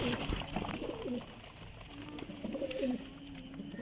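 Pigeons give soft, repeated rolling coos, several calls in a row at close range, faint and unaccompanied by talk.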